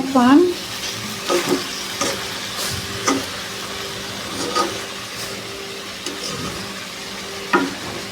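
Vegetable stalks fry in a pan for a home-cooked curry, giving a steady, close sizzle with scattered brief clatters and stirring noises and no talking.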